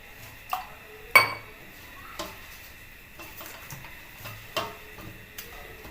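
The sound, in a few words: iron griddle (tawa) placed on stove to heat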